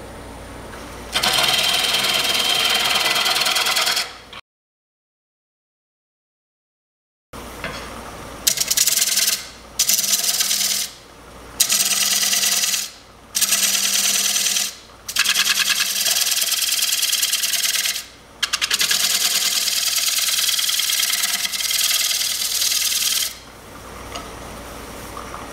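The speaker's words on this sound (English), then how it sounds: "now I've got a half-inch bowl gouge. Turn the speed up just a little bit on this." A wood lathe spins up while a half-inch bowl gouge cuts a walnut bowl, giving a loud broadband hiss in repeated cutting passes with short pauses between them and one silent gap early on.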